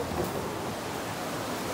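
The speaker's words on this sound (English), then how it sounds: "There's a waterfall over there too." A waterfall at a river gives a steady, broad rushing roar that continues without pause, fairly loud and even, with no voices over it.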